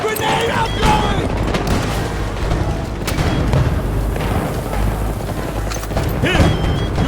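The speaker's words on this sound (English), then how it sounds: "Grenade outgoing!" Call of Duty battle with dense, loud, continuous gunfire and heavy booming explosions, including a grenade blast, layered with shouted voices.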